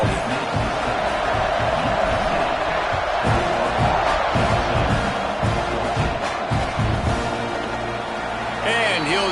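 Stadium crowd roaring and cheering in the NCAA 26 college football video game, a dense sustained wall of noise that surges in places, with a commentator talking over it.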